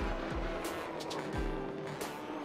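A BMW race car driving in iRacing: a continuous engine drone with rising and falling pitch sweeps as gears shift, heard up close with no talking.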